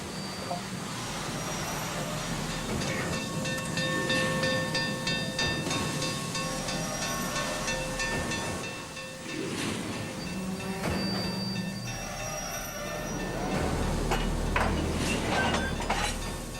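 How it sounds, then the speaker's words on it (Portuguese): A Union Pacific Challenger steam locomotive, 36.5 meters long and the largest operating steam engine, rumbles past with loud, sustained mechanical clatter, hissing steam and ringing metallic tones that swell and ease. "É a maior locomotiva a vapor do mundo ainda em funcionamento."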